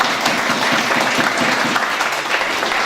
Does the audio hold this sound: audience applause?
yes